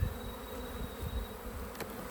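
Honey bees buzz steadily at a backyard hive fitted with a metal queen excluder, a continuous close drone with a few louder passes as individual bees fly near.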